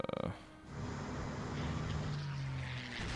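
Warplanes in the World War II strategy video game Strategic Command: World at War, a faint, steady engine drone that starts after a brief stutter, with a low hum under it.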